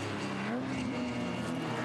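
A twin-turbo six-cylinder BMW 135 race car at Manfeild circuit howls past close by, its engine note rising and steady at high revs, loud and continuous for under two seconds.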